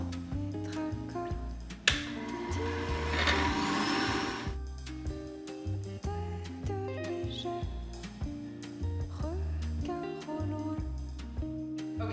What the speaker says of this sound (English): Juicer's ready. I'm gonna just start throwing stuff in here.